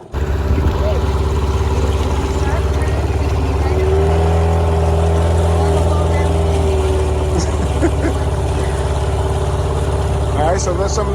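A sailboat's engine runs steadily under throttle, a loud continuous drone with a low hum throughout, while people talk over it nearby.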